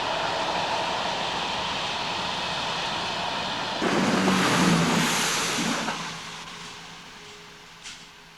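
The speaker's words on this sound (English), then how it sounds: "The empty cement is soon followed by train 6M17, the empty RMC limestone hoppers from Leeds to Peak Forest." Empty limestone hopper wagons of a freight train roll past on their way from Leeds to Peak Forest, a steady broad rumble that swells louder near the middle and then fades as the train moves away.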